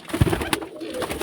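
Madasi pigeons in a loft, their young among them, give low cooing close at hand. A few short, throaty coos rise over a steady murmur of background noise.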